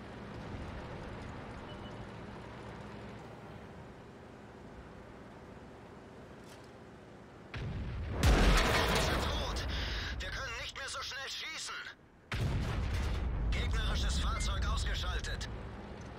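The FV215b (183) tank's 183mm gun fires in World of Tanks, two heavy, loud blasts a few seconds apart, each leaving a long rumbling tail, with a voice talking over the low background.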